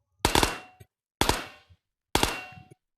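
A Luty homemade submachine gun fed from single-stack magazines fires three short, loud bursts of rapid shots in quick succession, each burst clearly separated by silence.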